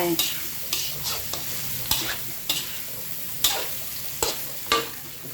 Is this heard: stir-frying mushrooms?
yes